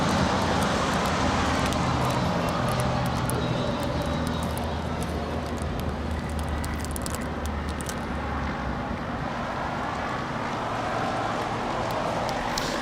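An Airbus A320 jet departs Los Angeles International Airport, a steady distant roar of engines that slowly fades a little over time, heard alone without voices.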